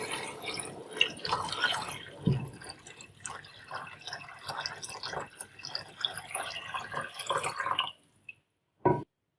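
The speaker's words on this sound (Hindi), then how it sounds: "अब इसमें ऐड कर देंगे 3 गिलास पानी।" Three glasses of water are poured into moong and masoor dal in a pot, a continuous close splashing gush for about eight seconds that stops abruptly, followed by a last brief splash.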